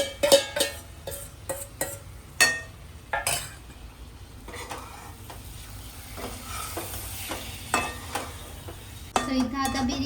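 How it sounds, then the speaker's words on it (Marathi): Marinated prawns stirred into biryani masala in a pan, a spoon scraping and clinking against the metal in irregular strokes over a soft sizzle, close up. "जे आपण बिर्याणी करता मॅरिनेट केले होते सेपरेट प्रॉन्स, ते आता आपण मिक्स करणार आहे या मसाल्यामध्ये"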